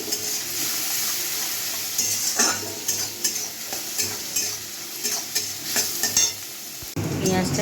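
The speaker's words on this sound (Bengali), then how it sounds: "পেঁয়াজটা একটু ভেজে নিলাম, নেড়ে চেড়ে নিয়ে" Ground onion paste frying in hot oil in a pan while a spoon stirs it, giving a continuous close sizzle broken by repeated scraping strokes, with a brief louder burst near the end and no talk.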